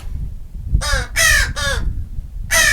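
Crows caw outdoors in four loud, harsh calls, three in quick succession and then one more after a short pause, with low background rumble between them.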